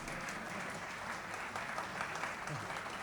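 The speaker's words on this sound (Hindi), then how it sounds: "तालियां बजाओ।" Audience applause at a Hindi poetry talk on the Ramayana, a steady wash of clapping from a large crowd that runs the whole stretch at moderate level with no talking over it.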